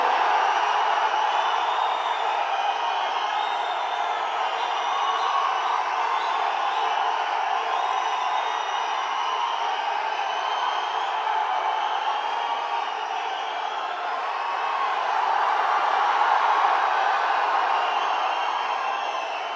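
A large crowd at a TVK political rally for actor Vijay's party keeps up a steady, roaring wash of clapping and cheering, loud and continuous for about twenty seconds without a break.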